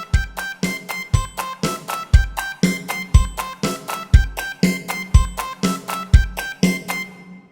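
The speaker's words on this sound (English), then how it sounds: "which can lead to notes being duplicated into the same beat and sounds like this" A Yamaha Genos arranger keyboard plays a repeating pattern in which notes are duplicated onto the same beat, giving loud, doubled, punchy strikes in a steady rhythm, alone and close.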